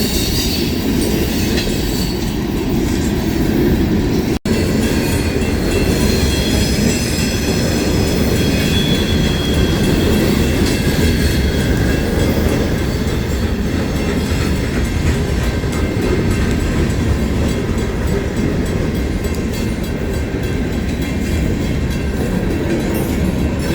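CSX freight train passing on the Waterville Subdivision in Maine, a steady loud rumble of railcars and wheels on track that runs continuously throughout, with no voices.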